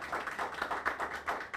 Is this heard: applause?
yes